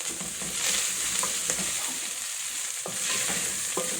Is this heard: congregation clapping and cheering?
no